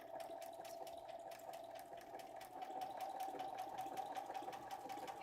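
A sewing machine runs steadily during quilting, its fast, even needle rattle and motor hum carrying on at a low level for several seconds, slightly louder toward the end, with no voices.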